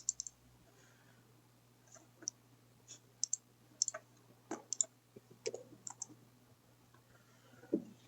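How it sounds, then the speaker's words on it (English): Faint sharp clicks of a computer mouse or keys, scattered irregularly over a quiet room with a low steady hum beneath. "So I'm going to click run."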